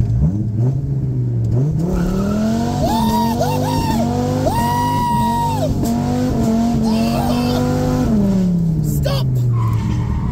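At a supercar event, a car does smoky burnouts with loud, sustained engine revving and wailing tire squeal that rise and fall over several seconds, while a person shouts briefly nearby.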